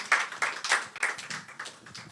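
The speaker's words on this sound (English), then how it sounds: "Let's welcome him with a round of applause." Brief, light applause from a small group, a scattering of quick claps lasting about two seconds.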